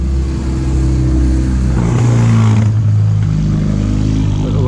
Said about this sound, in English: Bit of a noisy motorbike there.